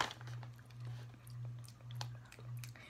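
Close, soft crunching and chewing of a bacon-flavored Dollar Tree snack in a few rhythmic bites, with a steady low hum beneath and no talking.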